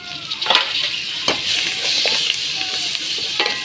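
Drumsticks sizzling in hot oil in a pan for an egg curry, a loud steady frying hiss with brief stirring scrapes, close up and alone.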